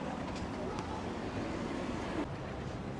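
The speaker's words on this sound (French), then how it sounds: "Il y a un petit vent à 30 km/h aujourd'hui." Wind at the seaside in Trouville-sur-Mer, a dense steady rush buffeting the microphone, fairly loud and continuous with no gaps.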